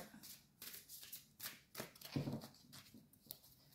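A deck of archangel tarot cards being shuffled and cut by hand, a string of soft, quick papery riffles and taps in short bursts, close and quiet with no talking.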